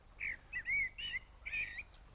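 Blackbird song, a few short clear phrases of fluting chirps and whistles close by in a quiet setting.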